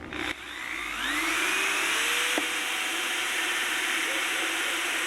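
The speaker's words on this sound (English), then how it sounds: "I am going to drill this about 1 inch off the bottom" A power drill bores into a plastic water container, its motor spinning up with a rising whine and then holding a steady, fairly loud drone while the bit cuts, with a brief click partway through.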